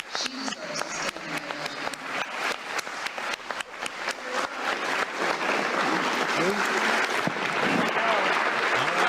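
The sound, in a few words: thunderous applause, standing ovation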